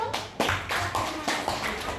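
A class of students claps together in a classroom, giving a quick run of sharp, closely spaced hand claps that stay fairly loud and near for about two seconds, with faint voices mixed in.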